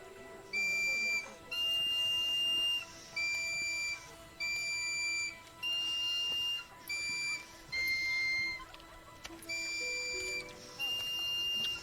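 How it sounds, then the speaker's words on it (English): A shrill, pure whistle plays a repeated two-tone pattern of short blasts with even pauses, steady and moderately loud over faint background hum. "lead girl plays her whistle necklace thing"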